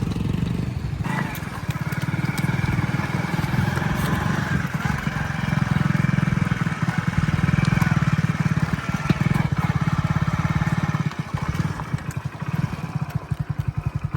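A tractor engine chugs steadily nearby, a low throbbing rumble that holds fairly constant before easing slightly toward the end, with some voices faintly present.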